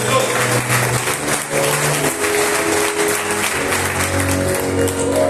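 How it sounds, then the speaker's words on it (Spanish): Congregation applauding during a Spanish-language church service, a dense continuous wash of clapping from many hands, loud and close, with music or tones underneath throughout. "Dale un aplauso al que vive y reina."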